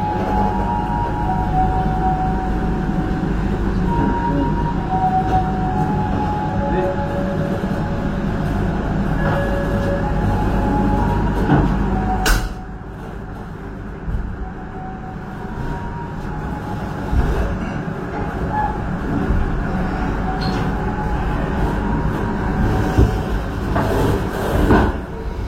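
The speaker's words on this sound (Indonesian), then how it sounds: "yang diberangkatkan dari stasiun Cikampek ini adalah kereta api Cakrabuana yang saya naiki dulu nih" Cakrabuana passenger train departing Cikampek station, a loud continuous rumble of rolling wheels and carriages close by, steady throughout with a brief sharp clank partway through.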